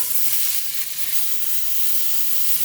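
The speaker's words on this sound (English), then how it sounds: "Hear that sizzle?" Steady, loud sizzling of steak frying in a hot non-stick pan on the stovetop, a continuous crackling hiss with no voices.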